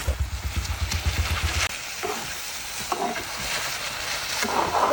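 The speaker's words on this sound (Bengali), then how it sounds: "এবার আমি টমেটোটা দিয়ে দিচ্ছি, পুরোটাই আমি দিয়ে দিব। ভালোভাবে একটু নেড়ে নেব।" Tomato goes into a hot pan with mustard paste, turmeric and salt and is stirred: rhythmic scraping strokes at first, then a low steady sizzle with occasional spoon knocks, close up.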